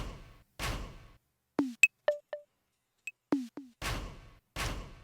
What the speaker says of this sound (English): So this is what the percussion sounds like.